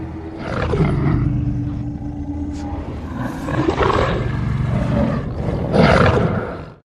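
Wolves in a film scene set on the Alaskan snowfields growl and snarl in low, rough bursts, with higher drawn-out calls rising at times, loud and close over a steady rumbling background.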